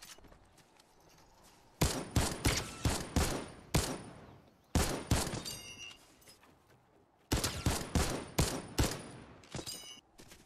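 Pistol shots from a Desert Eagle in the Fortnite video game crack in rapid clusters, several quick bursts of sharp reports separated by brief pauses, loud and with no talking.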